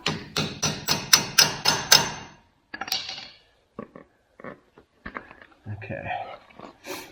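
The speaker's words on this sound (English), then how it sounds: "Take a hammer." A hammer taps push-in grease zerks on a power buggy with about seven quick, sharp, evenly spaced metallic strikes close by, followed by scattered lighter knocks and handling sounds.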